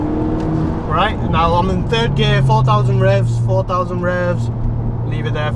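An Audi S3 8P engine revs up in third gear around 4,000 rpm as the turbocharged hatchback accelerates, a steady low drone that climbs under close, continuous talking from inside the car.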